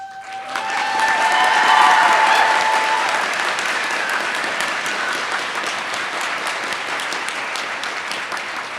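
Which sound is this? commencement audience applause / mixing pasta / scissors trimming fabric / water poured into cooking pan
commencement audience applause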